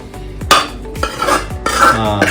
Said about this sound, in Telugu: చింతపండు పులుసు కలిపి పోసి మంచిగా మిక్సీ చేస్తాం